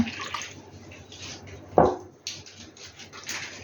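Water is poured into a mixing bowl of milk for Ukrainian crepe batter: short, close splashy pours come in separate bursts, with a single sharp knock between them.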